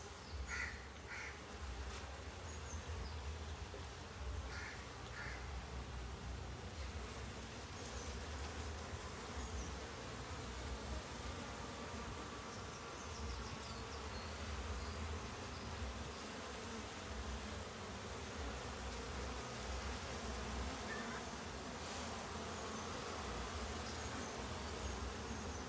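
Worker honeybees at a honeybee farm buzz in a steady, dense, low hum that stays even and fairly soft throughout, with no talking.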